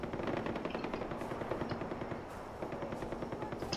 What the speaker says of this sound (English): I'm being shot at here.